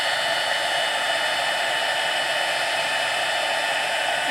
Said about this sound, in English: Best to wait till your heat tool's going a bit.